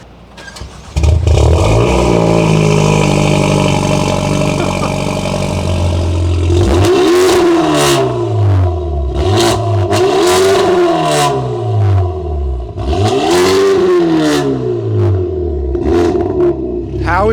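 A Hyundai i20N with a 2-litre engine, fitted with a GPF delete, revs hard and loud at close range, rising and falling in repeated sweeping bursts with crackling overrun between them.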